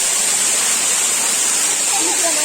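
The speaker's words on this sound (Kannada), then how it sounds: "ನಂಗೆ ತುಂಬಾ ಇಷ್ಟ ಆಯ್ತಾ ಫಾಲ್ಸ್" Valachil waterfall roars as a loud, unbroken rush of falling water, filling the short stretch from start to end.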